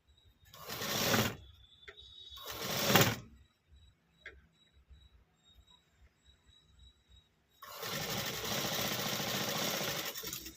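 Sewing machine stitching the shoulder seam of a readymade top, heard up close as three bursts of rapid whirring, two short runs and a longer steady one, separated by quiet pauses with no talking.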